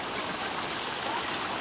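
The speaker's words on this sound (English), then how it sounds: "the end of the water from the waterfall that runs out into the sea" Waterfall water runs steadily into the sea on Ilha Grande, Brazil, a close, loud, continuous rushing wash with no voices.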